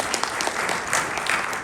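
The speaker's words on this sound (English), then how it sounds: "let's give each other a warm round of applause for that" Warm audience applause at a Consular Corps of the Philippines gathering, steady dense clapping filling the room without a break, fairly close and loud.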